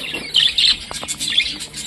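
A spangle rainbow budgerigar chirps and warbles in quick, bright bursts close by, with short clicks scattered between the calls.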